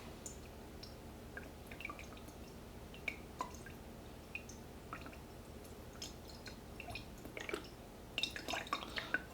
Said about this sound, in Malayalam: എന്നിട്ട് നമ്മളിത് എൻ്റെ മേളിൽ കൂടെ ഇങ്ങനെ ഡ്രോപ്പ് ആയിട്ട് ഒഴിച്ചു കൊടുക്കണം